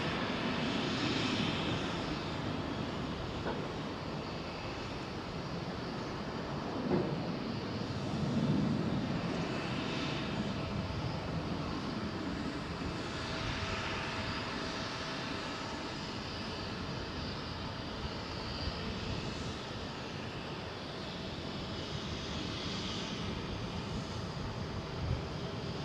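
A Boeing 757 airliner lands at London Heathrow at dusk, its engines a distant, faint, steady roar that swells gently and fades with a light rumble of wind, and there is no talk.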